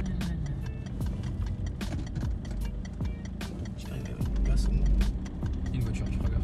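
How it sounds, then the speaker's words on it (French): A car on a city street heard from the pavement: a low engine rumble that swells and passes close by near the end, under steady background traffic noise and people talking and clicking footsteps. "Une voiture, tu feras gaffe."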